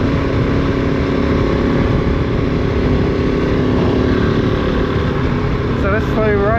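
Kove 450 Rally motorcycle ridden on the road and opened up to about 50, a loud continuous engine drone with wind rush close by, rising in pitch toward the end as it accelerates.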